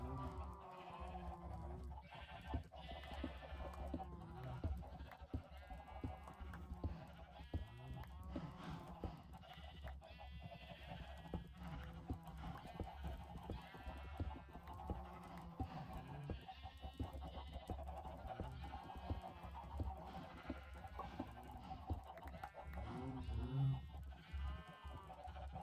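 Sheep and goats bleating in the Minecraft video game, a steady, loud chorus of repeated animal calls with a voice talking intermittently over them.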